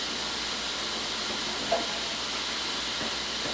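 Pot of water steaming at a boil while canned water chestnuts and vegetables blanch for a Chinese stir-fry, a steady soft hiss throughout with no talk.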